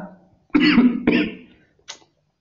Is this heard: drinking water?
no